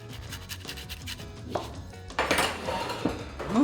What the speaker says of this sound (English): Lemon zest.